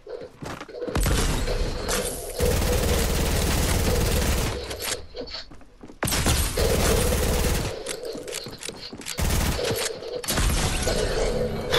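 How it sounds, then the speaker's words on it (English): Dragon's Breath shotgun fire in the video game Fortnite, heard as loud, dense bursts of repeated blasts with brief gaps between volleys. "Worst shotgun in Fortnite history."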